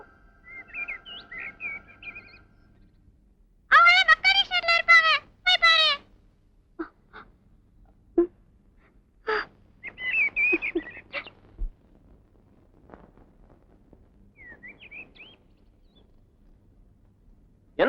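Birds call in a quiet outdoor setting, with a loud burst of duck quacking, then scattered chirps, whistles and short calls separated by near silence.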